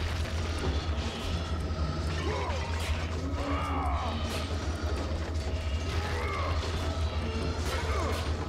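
Clay pots shatter in the PlayStation 2 game God of War, giving several sharp crashing breaks over steady game music and ambience while a player talks now and then.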